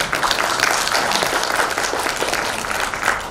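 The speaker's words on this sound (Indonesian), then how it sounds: "itu kita aplaus untuk kita semua" An audience at an Indonesian road-technology workshop on precast and prestressed roads applauds, with dense, sustained clapping from a crowd of many people, loud and steady throughout.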